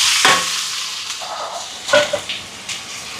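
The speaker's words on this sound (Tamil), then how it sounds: "இப்போ இதெல்லாம் நல்லா வதங்கட்டுக்கும்" Onions, chillies, green chillies and curry leaves sauté in hot oil for a fenugreek curry, with close sizzling and a few scraping stirs of a spoon in the pan.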